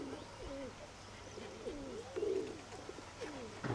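Pigeons coo close by in a series of soft, throaty, rolling calls, several phrases following one another over a quiet background hum, with a short rustle near the end.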